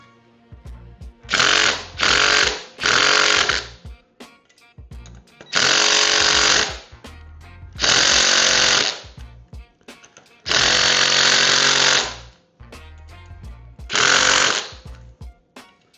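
A power tool drives a stainless self-tapping screw into a motorcycle fairing on a Victory Vegas, running in loud, steady whirring bursts of one to two seconds separated by short pauses, close up.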